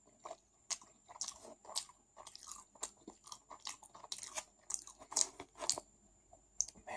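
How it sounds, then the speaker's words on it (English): Close-up chewing of kebab and french fries, with wet crunchy bites and squishy mastication in an irregular rhythm, quiet and intimate, with no talking. "Maybe you just want to hear me chew this food"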